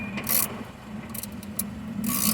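A spark plug thread chaser turning in and backing out of cross-threaded cylinder head threads gives short metallic scraping rasps, a few close, dry strokes over a low steady hum.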